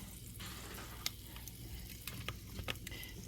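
Breakfast sizzles steadily in the tray of a GoSun Go electric cooker with a soft, continuous hiss and a few light pops and stirring taps, quiet and close, with no voices.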